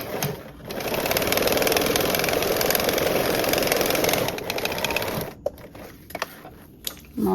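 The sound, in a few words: sewing machine stitching a quarter-inch seam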